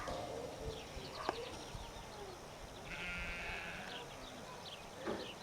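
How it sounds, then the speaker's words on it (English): Sheep bleating in a farm outbuilding ahead of shearing in New Zealand, with a few moderately loud calls spread across the clip over a steady background of rustling and shuffling livestock. "We're about to get the sheep in, ready for shearing tomorrow, so Cindy can see the shearing."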